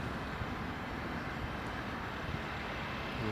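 The Airwolf aircraft passes at Newcastle Airport as a steady, broad engine roar at moderate distance, holding level throughout without voices.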